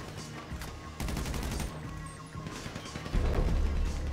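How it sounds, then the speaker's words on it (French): Crossfire in GTA 5 Online, with bursts of gunshots and rapid automatic fire from two sides crackling over a busy game soundscape, building into a dense, loud fusillade toward the end. "ils tirent tous les deux en tir croisé"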